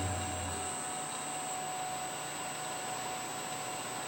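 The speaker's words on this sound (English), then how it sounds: "this is my table saw motor running at 60 Hertz, and it doesn't have a fan" A fanless table saw motor running at 60 Hz gives a steady, loud whirring hum with a constant tonal whine, unchanging for the whole stretch.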